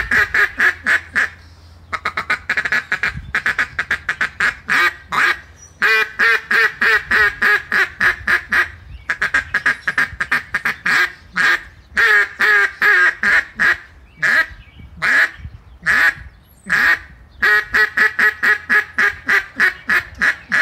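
A DJ Illinois River Valley Calls model 39 duck call is blown in a long run of sharp, rhythmic quacks, loud and close, with short cadences and brief pauses between bursts.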